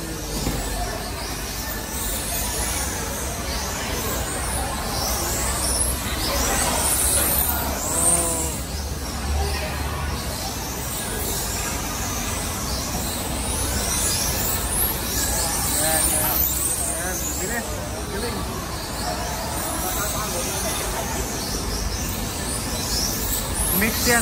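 Small 1:10 and 1:12 scale RC cars race around a track, their whining motors buzzing and sweeping past in bursts beneath steady crowd chatter and someone talking throughout.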